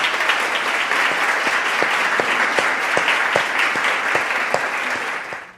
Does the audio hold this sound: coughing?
no